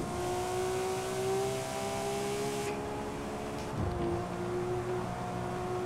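Car engine in the Forza Horizon 4 racing game, a steady droning rev that holds pitch, briefly dips and then climbs again, loud and up close with no voices.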